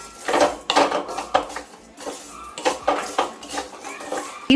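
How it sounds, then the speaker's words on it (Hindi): A spoon scraping and clinking in a pan while sugared panjiri roasts, with uneven metallic scrapes and knocks in bursts, fairly close, no talking. "अब इसको बस 30 से 40 सेकंड तक हल्का भून लूंगी।"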